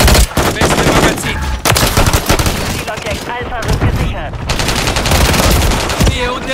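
Loud, close automatic gunfire rattles almost nonstop in a Call of Duty Modern Warfare 3 Domination match, in dense rapid bursts with brief gaps and faint in-game voice chatter.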